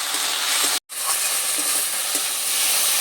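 Cumin paste sizzling as it is sautéed in a pan, a loud, continuous close hiss of frying with a brief cut of silence near the start.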